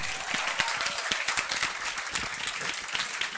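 A seminar audience at a gurukul event in Haryana breaks into lively applause, many hands clapping in a brisk, steady burst for a few seconds at moderate loudness.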